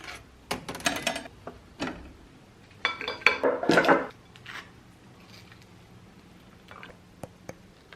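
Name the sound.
making peanut butter toast, dishes and cutlery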